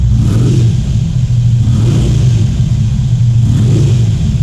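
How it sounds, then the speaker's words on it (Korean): A Harley-Davidson Road King with dual exhausts and an aftermarket muffler revs close by, with a deep, heavy, low-pitched rumble that swells and eases in a few throttle blips over a steady idle. "프리덤 머플러하고 그 다음 슈퍼트레 머플러랑 살짝 섞어 놓은 것 같은 그런 낮고 낮은 배기음 보여주고 있습니다"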